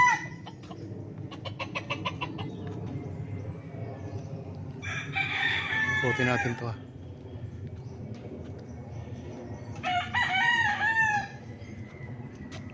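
Roosters crow loudly in long drawn-out calls, two or three separate crows spaced apart, with clucking and a brief voice in between, on a farm in Nagcarlan, Laguna.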